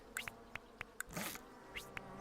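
Cartoonish bees buzz in the hive-building game Hive Time, a quiet scatter of short, sharp buzzing blips repeating at an uneven rhythm, with a longer swell in the middle and no talking.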